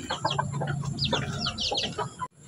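A mother hen clucks close by among her chicks on a farm, with a steady run of low clucks and scattered high chick peeps, ending in a brief drop to near silence.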